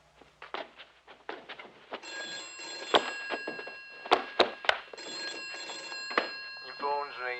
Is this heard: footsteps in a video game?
no